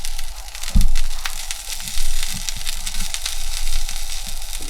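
Steady sizzling and crackling of a giant sunflower head frying in a hot pan, with a few louder pops and soft thuds along the way.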